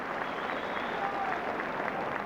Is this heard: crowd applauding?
yes